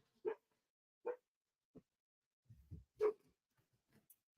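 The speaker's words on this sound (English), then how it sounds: "sorry, let me let the dog out." Indoor dog barking several times, short separate barks spaced out over a few seconds with a softer whimper between them, somewhat distant and alone.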